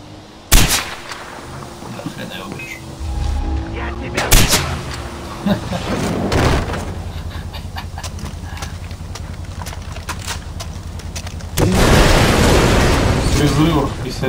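Explosions and gunfire in Far Cry 4, with sharp loud blasts, booming impacts and rattling shots spread through the scene, plus a horse's hooves clopping amid the game's ambient noise.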